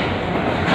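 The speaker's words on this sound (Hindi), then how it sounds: "बांद्रा से ट्रेन पहुंची है बेतिया और जा रही है मुजफ्फरपुर की ओर" The Awadh Express passenger train from Bandra Terminus to Muzaffarpur rolls through Bettiah railway station with a loud, close, continuous rumble and rushing roar that builds slightly toward the end.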